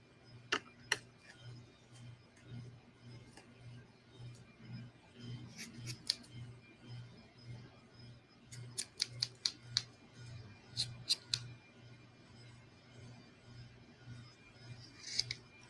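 Scissors snip yarn for a canvas tote in quick, faint clusters of crisp cuts, scattered over a steady low ticking hum in a quiet room.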